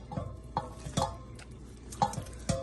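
Chicken mixed by hand into yogurt, spices and garlic-ginger paste for chicken korma. Soft, irregular scrapes and a few clinks against the bowl come up close at a low level.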